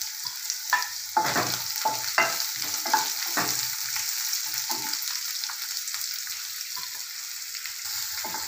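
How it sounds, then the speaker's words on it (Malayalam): Chopped onion drops into hot oil with curry leaves for a peanut vegetable curry, crackling and sizzling under repeated stirring scrapes and clacks of a spoon against the pan, with no voices. "ഒരു സബോള അരിഞ്ഞതിടുന്നു"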